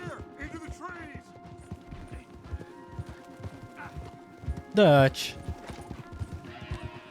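Horses' hooves clip-clop in a steady walking rhythm while riding through trees in the video game Red Dead Redemption 2, with a brief whinny and clanking tack; someone speaks over the hoofbeats.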